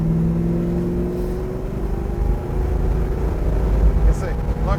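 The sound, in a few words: 1966 Chevrolet Chevelle big block engine revving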